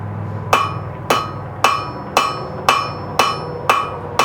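A hammer strikes a hot nail on an anvil during hand forging, eight sharp ringing metallic blows at a steady rhythm about half a second apart, loud and close.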